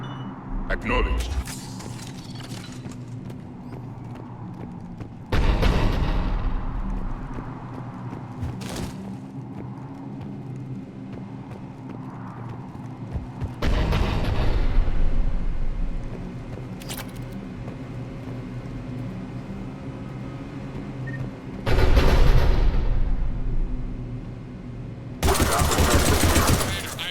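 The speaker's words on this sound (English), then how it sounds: "The cannon fire is clearing the way." Cannon blasts and bursts of gunfire in the Mass Effect 3 video game, heavy booming impacts at intervals over a steady rumbling battle backdrop, with voices speaking between the explosions.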